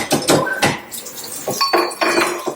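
Dishes and cutlery clatter and clink as they are washed at a kitchen sink, in several quick bursts of nearby rattling with water sounds between them.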